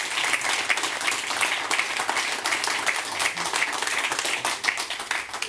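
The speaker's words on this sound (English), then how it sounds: "Please give a warm applause." Audience applause at a startup and SME conference session, steady dense clapping from a large crowd sustained throughout at even loudness, with no speech over it.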